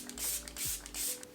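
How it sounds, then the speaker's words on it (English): Milk Makeup Pore Eclipse Matte Setting Spray spritzed onto a face in three short, crisp hissing bursts, close and fairly quiet, with brief pauses between each pump. "I'm going to spritz my face with a little bit of the new Milk Makeup Pore Eclipse Matte Setting Spray"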